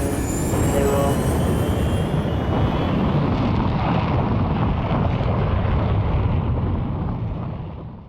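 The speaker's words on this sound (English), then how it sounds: "you quickly go under a rocket and witness the launch" A rocket launch in the Katamari PSP game roars as a loud, broad rumbling blast that builds quickly, holds steady for several seconds and then fades out, with no talking.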